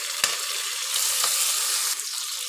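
Onions and tomatoes sizzle steadily in hot oil while frying for mutton biryani, giving a continuous bright crackle with a few soft stirring knocks.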